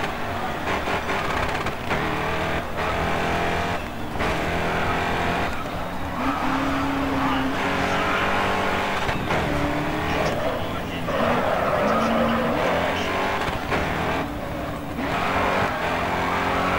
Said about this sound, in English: Let's see if we can get a drift.